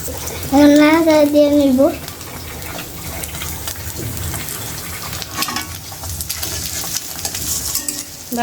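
Onion fries in oil in a pan for noodles, a steady sizzling hiss that carries on under the talk. A voice speaks loudly over it near the start.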